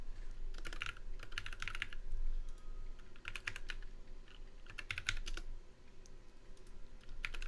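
Someone types a username and password on a computer keyboard, soft clustered key clicks in quick bursts separated by short pauses, faint and close, with no speech.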